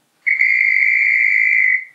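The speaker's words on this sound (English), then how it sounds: "it decides to blow the whistle every time you power it up" A Bachmann Class 25 model diesel locomotive with a DCC sound decoder sounds its horn once on power-up: a loud, steady, pure tone held for about one and a half seconds before tailing off.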